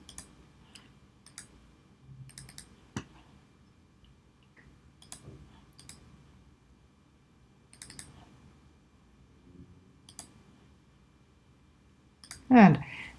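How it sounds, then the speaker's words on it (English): A computer mouse clicking on words in a document: a few sparse, faint, sharp clicks spaced several seconds apart over a quiet room, ending with a louder burst of sound. "So I'm going to click on that."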